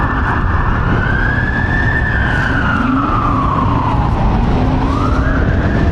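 A loud wailing emergency vehicle siren rises and falls steadily, close and continuous over heavy New York City traffic rumble.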